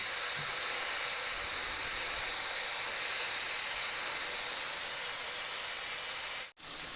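Chicken steak sizzling in oil on a grill pan, a steady loud hiss filling the whole clip with no talk and a brief cut near the end.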